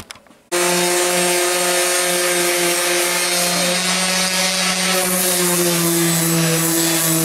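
80-grit sandpaper works Bondo body filler on a car panel. The sound starts suddenly and holds as a loud, continuous abrasive whir with a steady hum for several seconds.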